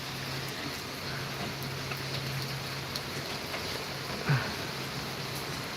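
Steady midday rain pours down in a continuous even hiss, with scattered drops pattering on surfaces close by and a faint low hum running underneath.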